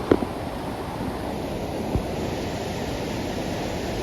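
River water rushes past near a bridge in a broad, steady roar, with wind buffeting the microphone and a couple of faint knocks, and no voices.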